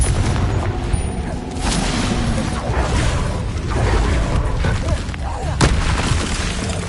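Confringo fire curse blasts in a Hogwarts video game, a dense rumbling roar of booms and crackling explosions that fills the whole stretch, loud and continuous, with game voices mixed in.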